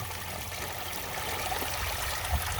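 Water showers steadily through a homemade hydroponics filter bucket packed with lava rocks, a continuous close trickling and splashing stream with no talk.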